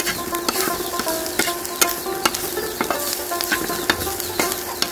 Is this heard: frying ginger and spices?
yes